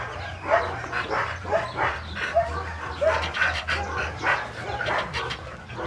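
A small puppy barking and yipping playfully, a series of short, fairly close barks repeating in an irregular rhythm over a low background hum.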